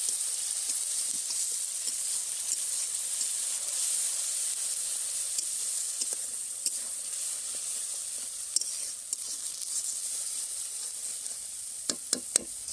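A steady, fairly soft sizzle of tomatoes frying with masala in a pan for a fish curry, with scattered pops and a few sharp clicks and scrapes toward the end.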